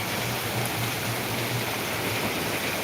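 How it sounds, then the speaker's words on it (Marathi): Torrential monsoon downpour in Ahilyanagar, a dense, even roar of rain beating down steadily without pause, loud and close, with no voices. "सध्याला कर पाऊस आहे पाण्याचं लय हाल चालू आहे"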